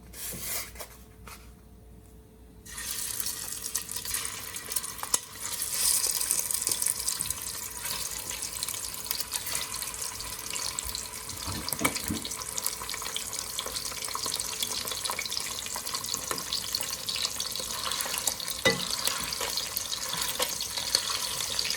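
A pound of hot Italian sausage fries in bacon fat in a pot: a steady, fairly quiet sizzle and hiss that runs throughout, with occasional scraping and stirring noises.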